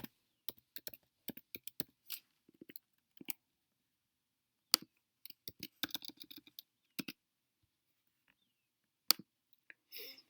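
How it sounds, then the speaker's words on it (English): A computer mouse clicking on a spreadsheet, sharp isolated clicks in an irregular series with quiet gaps between them, close and fairly faint. "I'm going to click on the top one and drag down until I get the bottom one."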